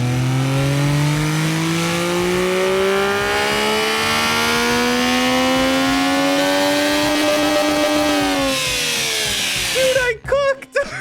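A loud video game car engine in BeamNG revs steadily upward to 12,000 RPM, its pitch climbing for several seconds before easing off and ending in a few sputtering pops.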